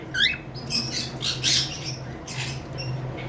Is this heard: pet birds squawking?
yes